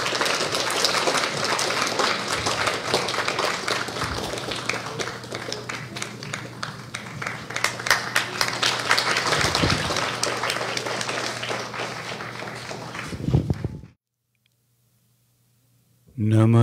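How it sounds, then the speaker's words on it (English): Sustained audience applause at an all-day Shiva event, loud and dense for about fourteen seconds before cutting off abruptly into near silence. "Warm round of applause, please."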